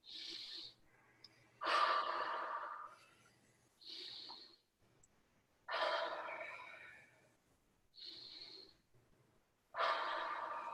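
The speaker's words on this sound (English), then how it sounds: "do some deep breathing exercises" Deep breathing exercise, slow cycles of loud rushing exhalations through the mouth alternating with sharper, hissing nasal inhalations, close and steady with pauses between breaths.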